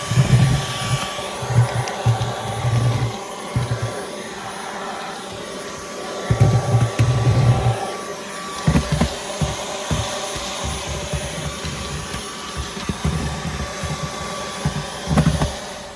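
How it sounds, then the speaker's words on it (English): A vacuum cleaner runs inside a 2020 Toyota Tundra TRD Pro, a loud, steady motor whine with rougher bursts of suction as the nozzle moves over surfaces. "There is stuff to vacuum as advertised."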